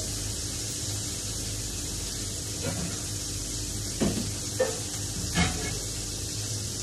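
Prawns fry in a pan for a Thai curry, giving a steady, soft, broadband sizzle with a few light clinks and scrapes near the end, and no talking.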